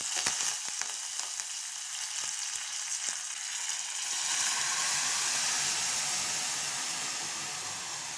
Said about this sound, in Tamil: இப்போ இதை தாளிப்பை சேர்த்து வதக்கிக்கோங்க.